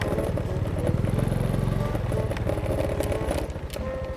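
A motorcycle engine runs with a rapid, throbbing putter and some rattly clatter. It sounds fairly close and steady throughout, with no talking over it.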